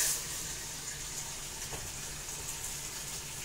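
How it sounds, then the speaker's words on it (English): Homemade beef stock poured into a pot, a steady splashing gush of liquid that carries on evenly for a few seconds at moderate loudness. "So just pour it in."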